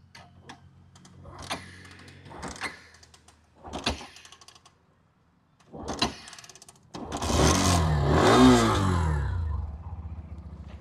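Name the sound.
Hero Xtreme 125R motorcycle engine kick-started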